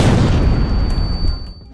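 Holy Hand Grenade explosion in a video game, a loud booming blast with a broad rumbling low end that holds and then fades over a second and a half.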